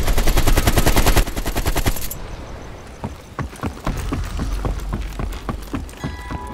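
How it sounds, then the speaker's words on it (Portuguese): Rapid automatic gunfire from Call of Duty: Black Ops Cold War, a dense loud burst at first, then scattered sharp shots and short volleys continuing at a distance. "Na bifurcação, você seguiu a estrada em direção ao som dos tiros."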